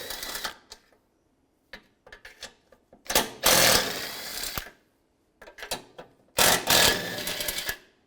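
Bolts being removed from a hydraulic engine mount on a 2006-2011 Cadillac DTS with a 13mm socket: repeated bursts of ratcheting and clicking, close and fairly loud, with quiet pauses in between.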